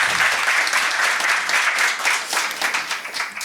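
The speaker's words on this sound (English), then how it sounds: "I'm going to ask you to give a round of applause to the panel." An audience applauding a venture fund panel at the close of a climate resilience event, a dense, steady round of clapping heard close and fairly loud for the whole stretch.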